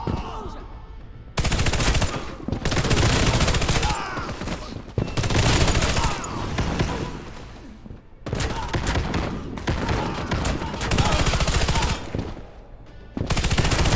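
Machine gun fire in the video game Warface comes in long, loud sustained bursts separated by short pauses, with in-game voices faintly present between volleys.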